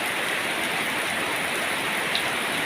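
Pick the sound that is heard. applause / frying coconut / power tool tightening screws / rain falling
rain falling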